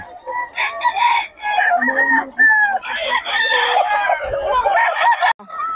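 Several fighting roosters crow and cluck over one another in a busy, close coop before dawn, with a voice briefly audible in the mix.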